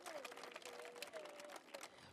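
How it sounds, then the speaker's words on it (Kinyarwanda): A large crowd at an outdoor religious gathering claps in praise of God, a dense, continuous wash of applause with voices mixed in throughout. "Turi benshi, dukomere Imana amashyi ko turi na benshi"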